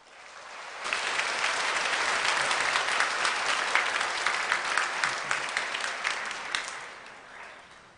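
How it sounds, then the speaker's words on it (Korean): A church congregation at a Sunday night worship service claps in welcome as a preacher comes forward, a full steady round of applause swelling in after a quiet start, holding for several seconds, then tapering off. "나오실 때 박수로 환영하겠습니다."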